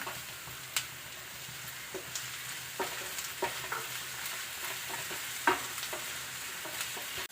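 Onion and tomato sautéing in a pan, with soft continuous frying and scattered clicks and scrapes of a spoon stirring, fairly quiet and close, no talking.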